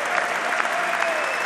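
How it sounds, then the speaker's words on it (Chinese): Sustained applause from a large audience at a Trump speech, a dense, even roar of clapping with a faint whistle above it. "当特朗普讲述池成浩的经历之后，现场响起了经久不息的掌声"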